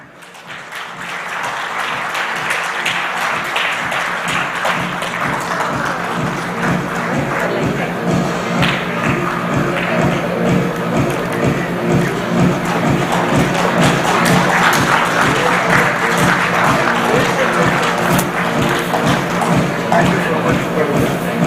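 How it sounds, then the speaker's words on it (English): Sustained audience applause at a conference seminar, loud and dense with rhythmic clapping patterns, building after a quiet start and holding steady, with a few voices and occasional thumps mixed in. "and with a round of applause for Pavanji"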